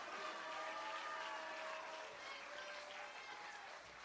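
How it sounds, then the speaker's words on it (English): Faint, distant applause for Chief of Police Scott Rakowski at a South Bend gathering, steady clapping with a thin tonal hum running underneath, fading slightly at the end. "Would you give him a round of applause?"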